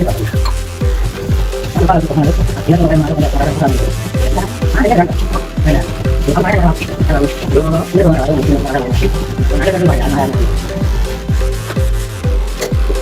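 Green beans being chopped with a knife on a board for a bean stir-fry, a steady run of quick, close cutting taps through the whole stretch, with a voice talking over it.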